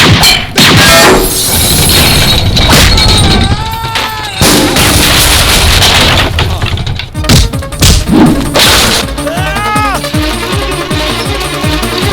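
Loud, sharp gunshots from a gun loaded with real bullets and heavy bangs crack repeatedly, mixed with thuds and crashes in a dense, chaotic burst of gunfire.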